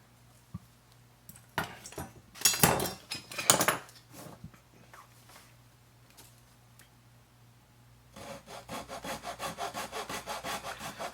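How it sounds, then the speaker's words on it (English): Razor saw cutting through wood while building a Junior 100 RC trainer model, heard as a burst of rapid close strokes early on, then a steady run of rhythmic back-and-forth sawing strokes near the end. "you want to use a saw for this. These razor saws are fantastic."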